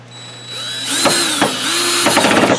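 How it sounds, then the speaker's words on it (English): Power drill driving a screw to fasten a strip over a window screen and Velcro, a near motor whine rising and falling across a couple of bursts with ratcheting clicks, no talking. "Screw our last screw in."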